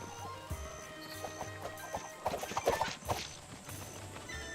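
A horse's hooves clip-clop in Zelda: Breath of the Wild near Kakariko, a scattered series of soft knocking steps that grows busier and louder midway before tapering off, alongside faint background game tones.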